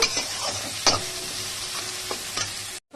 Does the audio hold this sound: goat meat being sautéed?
yes